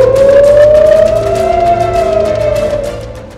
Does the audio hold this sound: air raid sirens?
yes